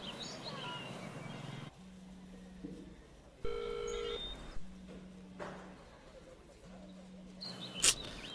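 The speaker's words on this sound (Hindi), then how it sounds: "सुगन, प्रियंका को फोन लगा, उसे बाहर बुला।" A telephone dials a number in a film scene, with several electronic beeps and tones separated by quieter gaps over faint background noise and a short high chirp near the end.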